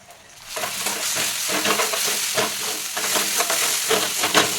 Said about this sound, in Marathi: आता पेस्टसुद्धा तेल सुटेपर्यंत चांगली भाजून घ्यायची